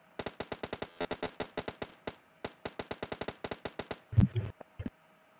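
A UMP submachine gun fires in the video game PUBG: rapid bursts of crisp shots in several quick strings, then a heavier thud and a final lone shot.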